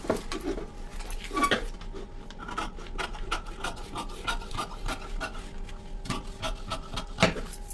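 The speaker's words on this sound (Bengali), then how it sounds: "এখান থেকে যে আমি যে দাগটা আমার দেওয়া আছে, তো সেই দাগটা কেটে বাদ দিয়ে দিচ্ছি।" Scissors cutting blouse fabric along a marked line, a run of repeated crisp snips and rasping scrapes, close and fairly quiet, with no talking.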